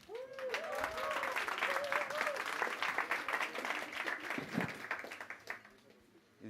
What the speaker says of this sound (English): A round of applause for Camille.